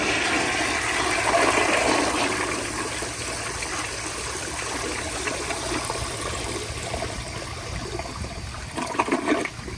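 Flushometer toilet flush from a 1980s American Standard Afwall bowl fitted with a Sloan Regal valve running a 3.5-gallon diaphragm: a loud, steady rush of water lasting the whole stretch, easing slightly midway, then a brief gurgle near the end.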